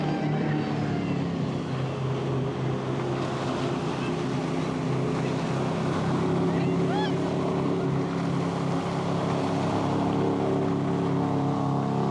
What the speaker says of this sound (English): Lovely paddle steamer.